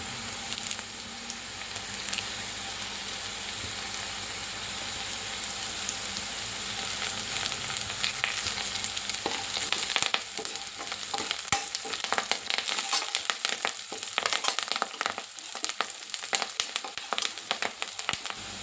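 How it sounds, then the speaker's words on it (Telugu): Curry leaves and seasoning fry steadily in hot oil over a medium flame, a continuous close sizzle with crackling that grows busier and more broken toward the end, with no talk. "మీడియం ఫ్లేమ్లో పెట్టుకొని వేయించుకోండి మంచిగా వేగాలి ఇవి గోల్డ్ కలర్ వచ్చేంత వరకు"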